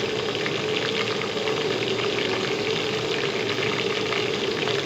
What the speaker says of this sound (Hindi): जब तक हमारे प्याज गोल्डन हो रहे हैं तब तक मैं हल्दी डाल देती हूँ